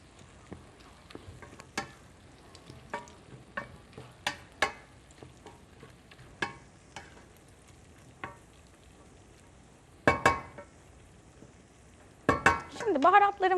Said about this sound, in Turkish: Şöyle tekrardan bir karıştıralım.